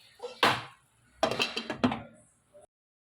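A lid clatters onto a pan of egg gravy set on low heat, with a first knock, then a short cluster of metallic clinks and rattles as it settles, close by and without talk.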